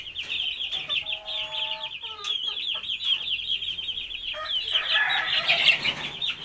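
Chickens on a small farm cackle and cluck continuously, with sharp repeated calls and busy overlapping fowl voices up close, rising into a louder flurry of clucking toward the end.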